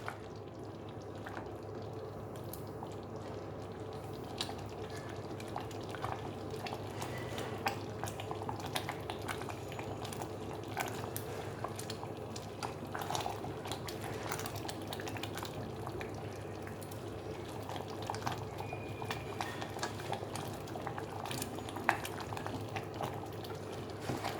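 Thick sweet pongal bubbles and pops steadily in a pot, soft irregular blips over a low simmering murmur throughout.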